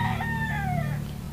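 A chicken in the Minecraft video game clucks in a short rising-and-falling call over a steady low background hum, fairly close and clear, with no talking.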